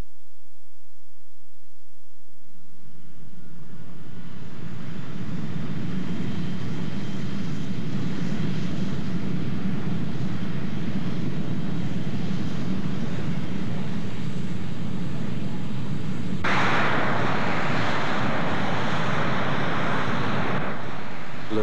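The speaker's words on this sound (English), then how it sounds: "on March the 4th, 1954, the 104 was rolled out for its first official flight" An F-104 jet aircraft rolled out for its first flight in 1954: a steady, loud engine roar comes in after a brief quiet start and holds throughout, brightening and swelling toward the end, with wind-like rushing and no talk.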